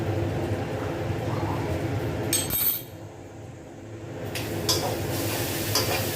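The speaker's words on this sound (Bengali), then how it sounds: "পুরের মধ্যে যে জলটা আছে এই জলটা কিন্তু শুকিয়ে নিতে হবে। একটা টাইট পুর আমাদের বানিয়ে নিতে হবে, তাই ক্রমাগত এইভাবে পুরটা নাড়াচাড়া করতে হবে" A spoon works sweetened green pea kachori filling around a pan as the moisture cooks off, giving a steady close scraping and soft sizzle with a single clink partway through.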